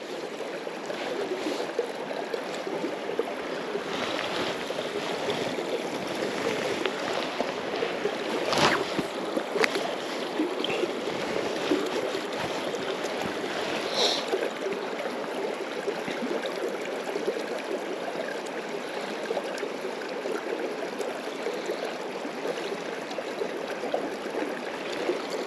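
Steady broadband rush of the flowing river Dee, crystal clear water at a salmon pool, continuous and fairly close, with occasional splashes and knocks.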